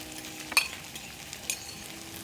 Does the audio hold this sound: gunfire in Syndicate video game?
no